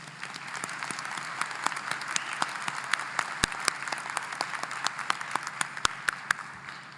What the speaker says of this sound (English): Please join me in giving him one more big round of applause.